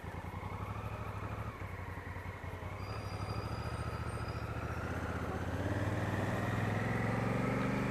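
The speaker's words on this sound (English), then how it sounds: "So just down here is where you come to see the Kuranda train" The Kuranda train passes nearby, its engine drone and wheel rumble building steadily louder over several seconds with a faint high squeal above.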